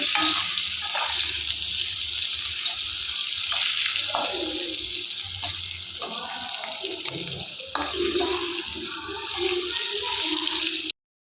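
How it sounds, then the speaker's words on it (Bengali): Pointed gourd pieces with salt fry in oil over a high gas flame, producing a loud, continuous hissing sizzle with small crackles and a few soft knocks throughout, and no talking. "গ্যাসের ফ্লেমটাকে রেখেছি হাই দিয়ে পটলগুলো ভালো করে ভাজা করে"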